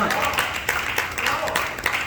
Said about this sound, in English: Give another round of applause for your host first.